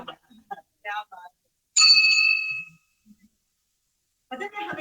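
A Tibetan bell inscribed with a mantra is struck once, ringing out clear and bright with a shimmering tone that fades over about a second, set between quiet murmured voices before and after.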